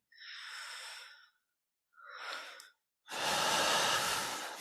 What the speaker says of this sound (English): Returning to normal breathing.